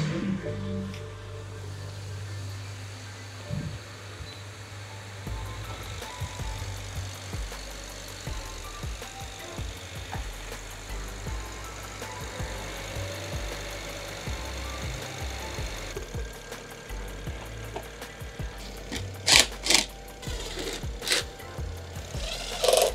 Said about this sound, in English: I'll get the keys and give it a quick start